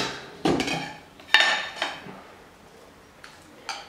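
A spoon scoops coconut oil into a coffee-grounds mixture in a bowl, giving several distinct clinks and scrapes of metal on dish spaced about a second apart, close and fairly loud, with no talking.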